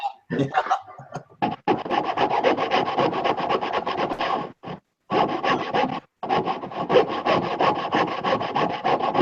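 Filing or sawing on wood, a steady rasping stroke repeated in long continuous runs with a few short pauses, close and fairly loud, with brief talk at the start.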